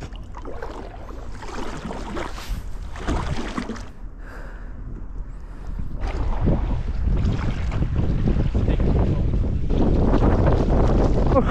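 Small boat chugging out onto the open sea in cold, windy conditions among heavy ship traffic, a constant low engine rumble with wind gusts buffeting the microphone, growing louder and rougher in the second half.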